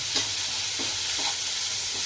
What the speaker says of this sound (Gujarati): પછી આપણે જે આદુ લસણ અને મરચાંની પેસ્ટ બનાવેલી છે તે આપણે નાખી દઈશું